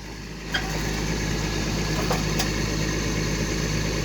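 A motor-driven water pump drains water out during construction of a small weir at home, running as a steady, close mechanical drone with a constant low hum, a brief knock near the start and faint clicks later on.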